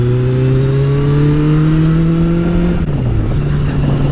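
A motorcycle engine pulls hard and close while overtaking a car, its steady drone climbing in pitch, dipping briefly at a gear change, then pulling on again. No one speaks.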